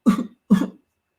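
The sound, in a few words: cough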